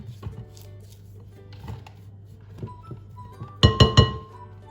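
A spatula scrapes and knocks around a mixing bowl of Victoria sponge cake batter, giving soft repeated scrapes and then three louder clinking thuds near the end.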